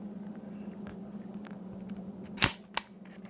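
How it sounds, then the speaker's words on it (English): A Ruger 22/45 pistol gives quiet handling noises, then a sharp metallic click and a second snap close to the microphone against a low steady hum. "we'll cock the gun and we'll make sure it fires"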